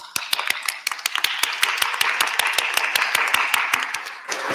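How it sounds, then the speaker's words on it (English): A small audience claps at a convocation ceremony, a brisk run of sharp, evenly spaced claps that carries for several seconds before tapering off. "Now I'm going to ask you to hold your applause"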